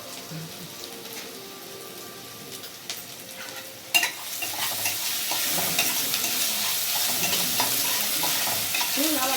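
Ginger garlic paste sautés in a pan for kalan biryani, sizzling steadily under repeated stirring scrapes. After a sharp utensil clatter midway, the frying grows louder and more crackly.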